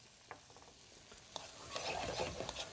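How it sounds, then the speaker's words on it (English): Sherry stirred into a hot, sizzling pan for a smooth corn soup with king crab meat: soft, continuous frying hiss with light scraping strokes, quiet and close, with no voices. "Keep mixing it until the sherry starts completely evaporating and almost glazing the container in the pan"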